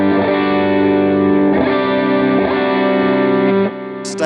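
Electric guitar, a Yamaha Pacifica with the humbucker coil-tapped, sounding a steady run of strummed chords with chorus-like shimmer, close and loud, ending in a brief quieter tail; no voices.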